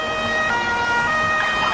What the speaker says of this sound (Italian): Quindi posso anche spegnere tutte ste cazzo di sirene.